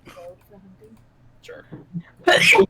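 During a tabletop Dungeons & Dragons session, one loud, sharp sneeze bursts out near the end, following quiet conversation and a brief spoken reply.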